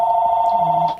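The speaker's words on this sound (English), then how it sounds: "Sorry about the phone call" A telephone rings with a steady electronic tone that holds for about a second and then cuts off, loud and near, with no talking over it.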